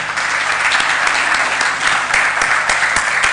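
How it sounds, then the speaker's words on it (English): Audience at a communicators' gathering clapping steadily, a dense, loud wash of applause that holds throughout with a few sharper individual claps standing out. "Shall we clap for them once again?"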